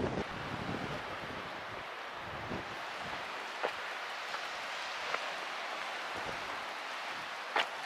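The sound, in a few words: strong wind on the English coast at Sand Point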